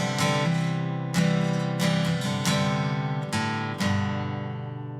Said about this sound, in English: we're going to come in on beat number 4 with this cool little lick using our hammer on.